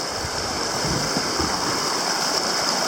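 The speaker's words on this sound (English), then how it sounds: "he was saying the river is much higher than it normally is" A high, swollen river rushes through the Vermont mountains, a steady, dense wash of flowing water, loud and continuous with no voices.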